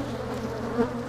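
Bees buzz steadily at an apiary in a protected natural area, a close continuous drone with a brief louder swell as one passes near.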